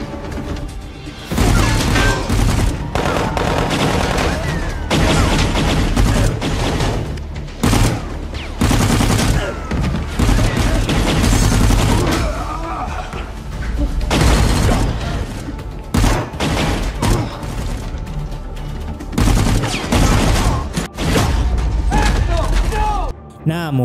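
Loud bursts of rapid gunfire and sharp cracks from an attack by kidnappers in a film keep going, with crashes and booms mixed in and only brief lulls between volleys.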